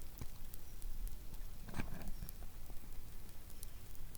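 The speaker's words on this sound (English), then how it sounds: "You hear that woodpecker going mad too?" A woodpecker drums in the woods around an overnight bushcraft camp, sounding as short rapid taps and one denser burst midway over a constant crackle of campfire cooking.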